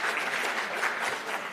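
Conference audience applause, a brief burst of dense, even clapping from a sizeable crowd, moderately loud and on its own.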